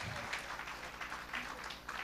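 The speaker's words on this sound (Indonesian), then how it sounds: "Berikan tepuk tanganmu." Congregation applause during a Sunday church service, a diffuse wash of clapping that fills the short moment at a moderate, steady level with a faint voice mixed underneath.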